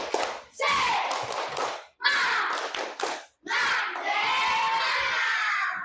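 Children in a classroom doing the 'tepuk semangat' clapping chant, loud shouted group chanting with claps in three energetic bursts separated by short pauses.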